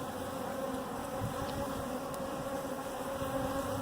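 A dense, steady drone of many honey bees buzzing nearby at a sugar-water feeder in winter, loud and continuous with no voices.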